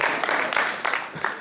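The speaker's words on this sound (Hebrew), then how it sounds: "תחיל לתת לי מחיאות כפיים רק על זה שאני אומר בשם הזה" Audience applause breaks out for an artist's name at a Hebrew-language magazine event, a short burst of dense, steady clapping from a crowd, fairly close and filling the moment without any talk over it.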